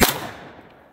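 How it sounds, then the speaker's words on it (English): A single gunshot from a Sig X-TEN pistol firing Grizzly ammunition cracks loud and close at the very start, then rings off in a fading tail of echo. "All right, first shot."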